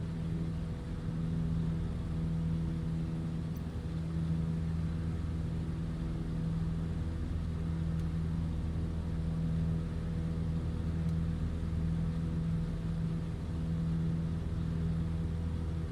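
An X-Cub float plane's engine drones at a steady, even pitch in a flight simulator, a constant low hum running unbroken with no audible talk.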